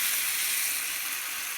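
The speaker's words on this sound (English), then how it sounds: "Now we also need to pour in this chicken broth here." Chicken broth poured into a hot pan of rice hisses in a steady, loud sizzle that fades slightly over its short length, with no talking.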